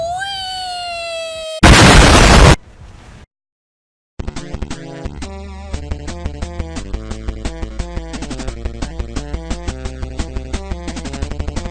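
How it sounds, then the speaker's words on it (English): A rising, whistling rocket ends in a loud, harsh explosion burst that cuts off into brief silence, followed by rhythmic electronic music. "Rockets explode!"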